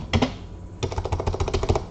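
Rapid typing on a computer keyboard, a brief burst of clicks, a pause, then a steady run of close, crisp keystrokes.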